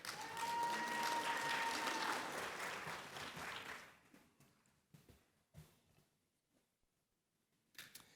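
Audience applause at a university staff service and recognition awards ceremony: a dense, steady round of clapping for the honorees that fades out, followed by a few scattered claps and faint shuffling.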